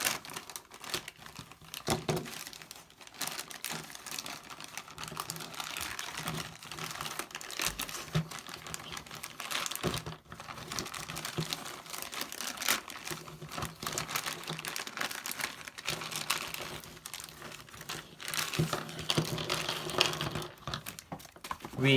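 Cardboard packaging and plastic wrap on a Mansions of Madness board game box being cut and torn open with a knife, steady crinkling, scraping and ripping up close with no talk.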